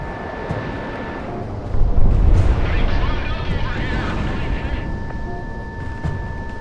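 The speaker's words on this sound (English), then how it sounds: "The puny flares are nothing compared to my manually guided missile." A manually guided missile in the Project Wingman flight game roars out as a dense, rumbling blast that swells sharply about two seconds in, then holds as a loud, sustained rushing drone with a steady high tone over it.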